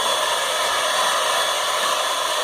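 Hair dryer blowing steadily and loudly close by, a continuous broadband whoosh with no pauses across the whole stretch and no voices.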